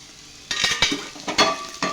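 Masala sizzles in oil on a hot griddle while a spatula scrapes and stirs in quick, uneven strokes, close and fairly loud.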